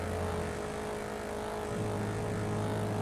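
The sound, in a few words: car engine revving in the GTA video game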